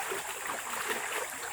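Water spills over an edge and falls in a steady, broad splashing rush, constant and fairly loud throughout with no clear breaks.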